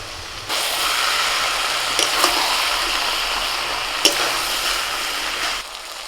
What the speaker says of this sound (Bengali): এখন ভাজা বেগুনটা দিয়ে দিচ্ছি